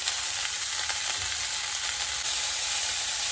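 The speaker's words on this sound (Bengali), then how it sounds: "দিয়ে ভালো করে ভেজে নেব।" Broccoli fries in a pan over a raised gas flame, giving a steady, close, continuous sizzle with light stirring scrapes and no voices.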